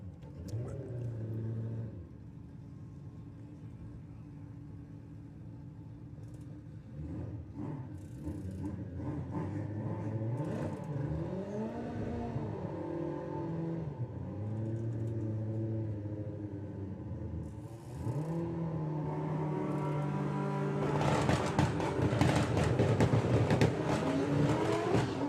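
A drag racing motorcycle at a summer nationals event roars down the strip. The engine note climbs through several gear changes, loud and close at first and then fading, with a rising burst near the end.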